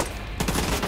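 Enemy rifle fire in The Division 2 from a foe walking while shooting, a dense, loud, continuous burst of rapid shots lasting about a second.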